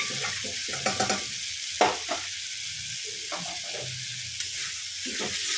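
Small potatoes sauté in a pan for a kabuli chana curry, a steady hiss of frying broken by repeated scraping stirs of a spatula, close and clear with no talk.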